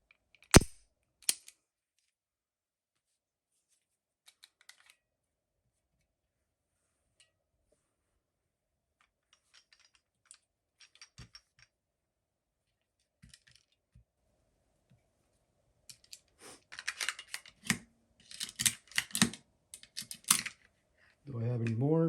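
Firearm action being cycled to eject snap caps (dummy rounds): a few sharp isolated metallic clicks early, then a dense run of racking clacks and small rounds clattering down, fairly close and unaccompanied by talk.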